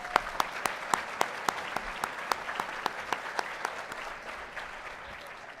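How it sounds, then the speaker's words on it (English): A conference audience applauds in a hall, the dense wash of clapping punctuated by a few sharp, evenly spaced louder claps nearby, gradually thinning toward the end. "Could we give them a round of applause?"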